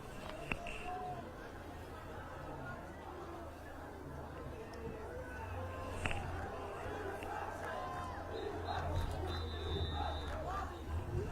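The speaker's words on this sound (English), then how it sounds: "Crowd trying to get the Braintree defense into the game" A crowd at a Braintree versus Brockton high school football game urges on the Braintree defense. Dense, steady hubbub rolls on with chanting voices and a few sharper shouts and whoops rising above the low rumble throughout.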